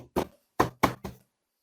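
A desktop computer case is struck by hand to test for faults after a loose-contact repair: four sharp, close knocks in quick succession, the last three closely spaced, with brief silence between them.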